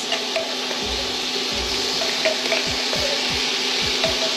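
Fresh garlic sizzles in melted butter in a pan, a steady close crackling hiss with a few soft clicks and bumps from the pan, no voices.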